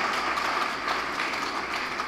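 Steady, dense applause from the audience at a ministry certificate ceremony for staff and officials, an even wash of clapping held at one level throughout with no voices over it.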